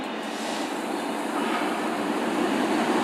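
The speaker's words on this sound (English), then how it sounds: "The 1344 Abellio Great Anglia Service in Norwich departed." Abellio Greater Anglia passenger train pulling out of Ipswich station, a steady broad rumble and rail roar that holds even and fairly loud throughout, with no talk.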